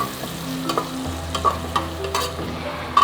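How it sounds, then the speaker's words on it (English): A spoon stirs a sizzling pepper sauce in a pot during a catering class, a steady fry hiss under scraping strokes and a few clinks against the metal, close and loud, with no one speaking. "So we stir."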